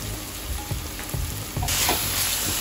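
Red chili masala and garam masala stirred into a sizzling pan for aloo matar, with steady close frying hiss, soft scraping strokes and a brighter, louder sizzle toward the end.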